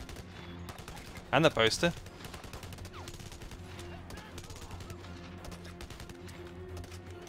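Brief clustered gunshots ring out in the shooter game Blackwater, a loud rapid volley lasting under a second amid quieter game ambience, with someone talking softly around it.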